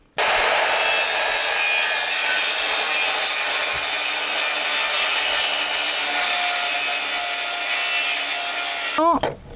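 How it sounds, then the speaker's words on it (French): A hand saw cutting through wood during timber-frame assembly before fitting wooden connectors, loud and close with continuous rapid rasping strokes that fill nearly the whole stretch, followed by a brief scrape at the end. "on va scier avant de mettre les connecteurs de bois"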